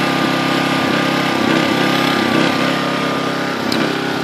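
A machine with an overload light idles, its engine giving off a loud, steady, continuous drone with a slight rhythmic throb and no voices over it.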